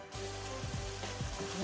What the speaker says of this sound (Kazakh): Мінекей жуамызды етімізді жақсылап қуырып алдық.